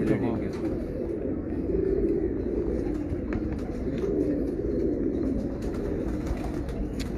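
Pigeons at a breeder's loft coo softly in low, repeated murmurs, close but faint, with people chatting nearby over the birds.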